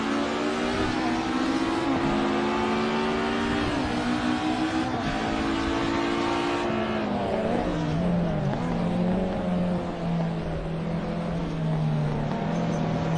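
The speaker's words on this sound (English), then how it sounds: "There they go, the Porsches." Porsche race cars roar past on a racing circuit, engines rising and falling in pitch as they sweep by one after another, loud and continuous throughout.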